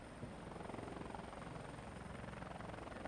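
A helicopter flies around an airport in Microsoft Flight Simulator X, its steady rotor thump and engine whine holding loud and even throughout, with no voices.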